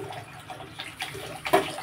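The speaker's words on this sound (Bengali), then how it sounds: "এই জলটা ফেলে আমি সেদ্ধ হওয়ার জন্য জল দিয়ে দেব" Water is drained off and fresh water poured into a pot for boiling vegetables and broken wheat for an oil-free khichuri, with uneven splashing and a sharper gush near the end.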